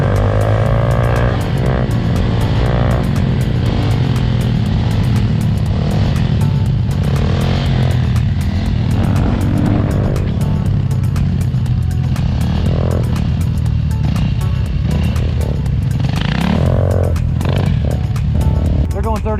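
A Honda Grom motorcycle cruises at about 20 mph on asphalt, its small engine droning loudly and steadily with wind rush, and a rider's voice talks over it throughout.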